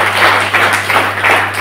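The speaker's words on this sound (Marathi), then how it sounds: "अरे त्याच्यासाठी एक टाळी तर मारा व्यक्तीसाठी" A crowd at a prayer meeting claps for a sick man, a steady dense patter of many hands sustained throughout with no talk over it.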